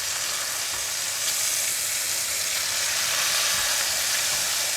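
Pork shoulder sears in a pan with a steady, close, even sizzle that holds for the whole stretch, no voices over it.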